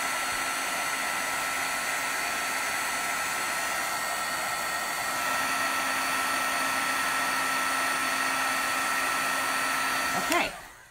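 Heat embossing tool blowing hot air over embossing powder, a loud steady fan whir with a high whine, running continuously for about ten seconds before cutting off at the end.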